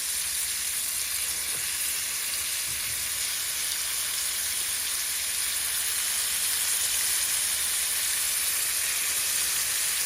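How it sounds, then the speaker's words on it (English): Large cubed steaks (minute steaks) frying in a pan, giving a steady, even sizzle that hisses on unbroken for ten seconds with no talking. "All right, let's fry these up."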